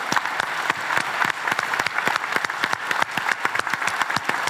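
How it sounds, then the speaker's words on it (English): A conference audience applauds its speakers with steady, dense clapping that stays loud and close throughout, with no talk over it. "And everybody, please, big applause."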